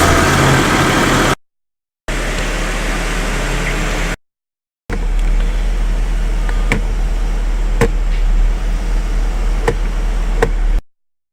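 Engine of a car fitted with a ZF 6HP26 / 6R60 six-speed automatic transmission, running steadily while the gears are selected in turn during a service, with faint clicks over the hum, broken by two short gaps.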